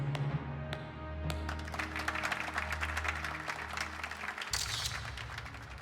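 Dense, continuous gloved-hand clapping in Valkyria Chronicles with a muffled, padded quality over a steady low drone, ending with a brighter burst near the finish.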